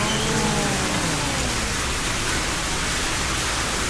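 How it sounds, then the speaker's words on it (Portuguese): An indoor cascade water feature in a motel room in São Paulo pours steadily, giving a dense, even, rain-like hiss that fills the room without pause from start to finish. "Aí fica parecendo que tá chovendo, tá vendo? Quando tá cascata."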